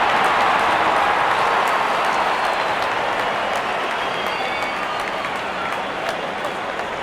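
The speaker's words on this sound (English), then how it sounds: "The crowd is enjoying every bit of this action." Steady broadband crowd roar and applause in a Real Cricket video game match between MI and RR, a dense wash of cheering that holds loud throughout and eases slightly toward the end.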